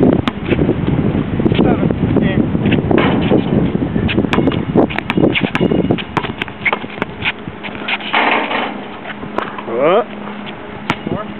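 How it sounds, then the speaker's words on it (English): Gusty wind buffets the microphone outdoors at a basketball game, a loud, rough rumble that runs throughout under people talking nearby, with scattered sharp knocks. "Damn wind."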